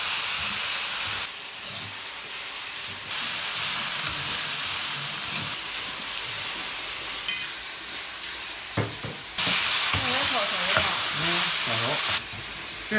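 Chicken slices stir-fry in a very hot wok with a loud hissing sizzle and bursts of steam, while spatula scrapes clatter in between. People talk over the cooking at times.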